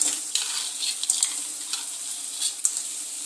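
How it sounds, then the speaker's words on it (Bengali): Washed crabs hitting hot spiced oil in a pan give a steady bright sizzle with scattered pops and stir clatters, close and loud, no voices. "এই সময় আমি ধুয়ে রাখা কাঁকড়াগুলোকে দিয়ে দেব"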